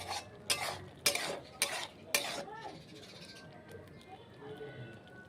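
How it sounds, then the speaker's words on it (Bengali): A spoon stirring tadka ingredients in a pan, five sharp scraping strokes in quick rhythm up front, then quieter scrapes and clinks with a light sizzle underneath; a voice talks briefly over the stirring. "এবার এগুলো একটু ভালো করে একসঙ্গে নাড়িয়ে নেব।"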